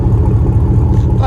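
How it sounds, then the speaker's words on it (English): A 2017 GMC Sierra All Terrain's 5.3L V8 fitted with headers and a Flowmaster Flow FX exhaust idles with a deep, loud, steady burble, a lumpy low rumble throughout. "There's the idle on it."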